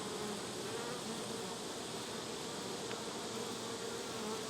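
Honey bees buzz at a hive in a dense, continuous drone, steady and fairly close, with no voices.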